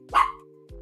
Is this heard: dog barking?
yes